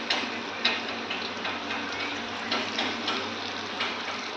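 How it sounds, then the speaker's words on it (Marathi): Ajwain leaf bhaji frying in hot oil in batter give a steady, dense sizzle and crackle with faint ticking pops throughout, close and even, with no voices. "ह्या बॅटरमध्ये असे डीप करून तळायचे"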